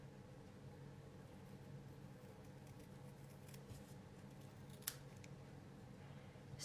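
Scissors trim paper for a ladybug shaker card, giving a few faint, crisp snips in an otherwise quiet room with a low steady background hum.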